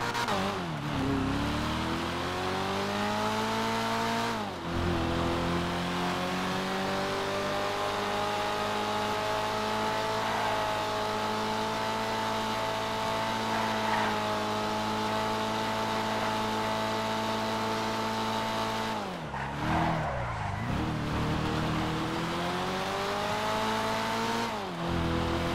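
The Eros X32 roars through a video game test drive, its engine revving steadily for many seconds with shifting pitch and brief breaks where the tires screech between gear changes.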